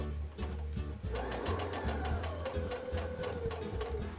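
A sewing machine stitches a quilt square with a steady rapid mechanical chatter, a brief start then continuous close running stitching throughout.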